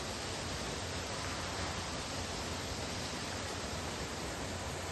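Rushing water of the Karumandurai waterfall in Salem, a steady, dense broadband roar that holds constant throughout with no voices over it.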